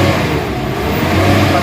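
Isuzu MU-X engine with a low-power condition revving steadily, a loud, close, continuous drone with rising rumble, and voices heard faintly underneath.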